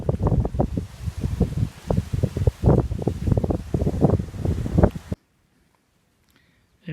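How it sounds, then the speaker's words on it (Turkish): Heavy, gusty wind buffets the microphone in rough low rumbling bursts, then cuts off abruptly into near silence. "Biraz rüzgar var."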